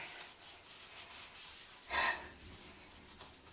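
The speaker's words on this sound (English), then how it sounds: "I'm going to take this microfiber cloth to it and rub it off" A microfiber cloth rubs soap scum and hard-water residue off chrome in soft, steady scrubbing strokes, with one louder, brighter wipe standing out midway and faint breathy noise between.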